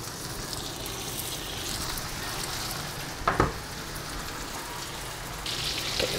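Beef patties frying in butter in a pan, a steady close sizzle throughout, with a short clatter of utensils midway and the hiss growing brighter toward the end.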